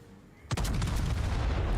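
Heavy ship guns firing in a naval combat video game: a quiet lead-in, then a loud booming salvo with several rapid cracks and a long rumbling tail.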